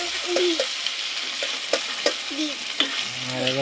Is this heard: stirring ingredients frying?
yes